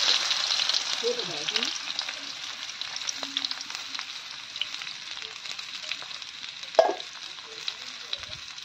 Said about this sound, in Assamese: গৰম তেলখিনি গৰম হ'ল। এতিয়া মই পিঁয়াজখিনি দি দিম।